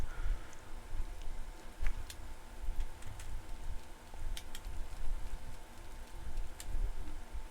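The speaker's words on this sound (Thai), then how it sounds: "เอ๊ะ ฝนตกอีกแล้วเหรอ" Rain falling in the video game The Spirit and the Mouse, a steady soft patter over low rumble with scattered crisp drips and ticks, no voices.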